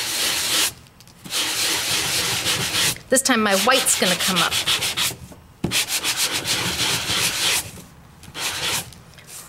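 An electric sander works over paper stenciled for scrapbook embossing in short bursts of dry, gritty rubbing, with someone speaking briefly between passes.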